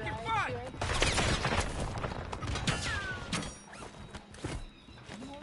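Gunfire in the shooter game Rebirth, scattered bursts and single shots at moderate distance mixed with footsteps and mechanical clatter, with people talking over the action.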